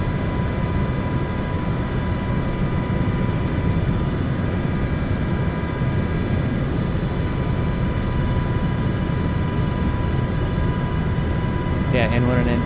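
An MH-60 helicopter engine in Microsoft Flight Simulator 2024 drones steadily throughout, a dense, loud turbine whine and rotor rumble with no pauses.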